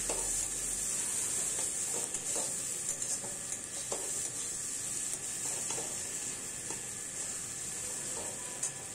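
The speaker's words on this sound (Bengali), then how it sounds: "এটার সাথেও আমি ভালো করে আলুটা মিশিয়ে নিচ্ছি" Potatoes being stirred in a pan of spiced oil for vegetarian sabudana polao, a constant bright sizzle with repeated soft scrapes of a spatula at a slow, irregular rhythm.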